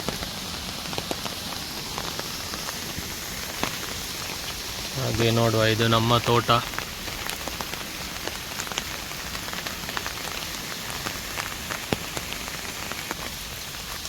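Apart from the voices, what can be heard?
monsoon rain falling on a garden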